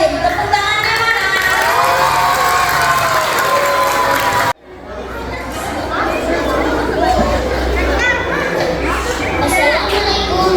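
At a school Independence Day proclamation-reading contest, a large crowd of children cheers and shouts loudly, then the noise drops suddenly and swells back as lively chatter and calls.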